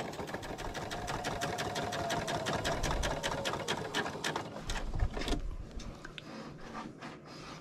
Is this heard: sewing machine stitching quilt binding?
yes